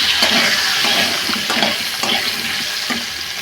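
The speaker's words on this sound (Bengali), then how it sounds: "আলুগুলো একটু ফ্রাই করে নিই।" Potatoes sizzling steadily in a pan of hot oil, loud and close, with a continuous frying hiss and a few stirring scrapes.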